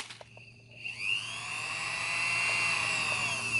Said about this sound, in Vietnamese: mình sẽ khoan thử cho anh em một hai lỗ nhá.